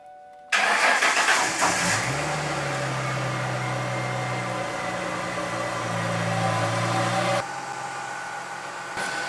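A V6 Ford Mustang engine cranks briefly and catches, then settles into a steady, even idle close by, running loudly for several seconds before the sound drops off sharply near the end.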